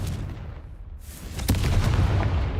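A Confringo fire spell blast in the Hogwarts Legacy video game goes off with a sudden burst. It leaves a loud, rumbling boom that carries on for over a second.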